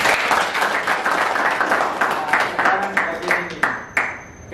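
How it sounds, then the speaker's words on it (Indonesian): A group claps together in an Indonesian prison counseling session, the applause fairly close and loud at first, then thinning into scattered individual claps that trail off with a few last sharp slaps. "Tepuk tangan dulu."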